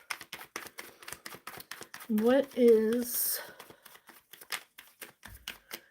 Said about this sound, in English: Okay, shuffling